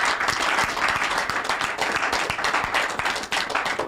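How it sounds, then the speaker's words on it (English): Audience applause at a Nigerian call-in community program, steady dense clapping from a crowd filling the whole stretch at even loudness, with faint voices mixed in beneath. "A round of applause."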